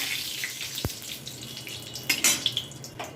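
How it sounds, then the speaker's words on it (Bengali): Cardamom and cinnamon tempering sizzles in hot oil as a soft steady hiss, with one sharp clink and a few brief louder spatters near the end. "এবার এতে দিয়ে দিচ্ছি এলাচ আর দারচিনি ফোড়ন।"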